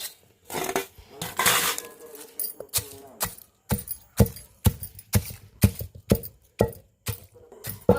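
Fried chillies and curry leaves being ground by hand in a mortar, with sharp repeated pounding knocks that settle into a steady, fairly close rhythm.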